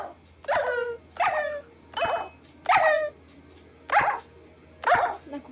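Several dogs barking in the Minecraft video game, six short clear barks spaced roughly evenly, fairly close and alone over a faint steady background hum.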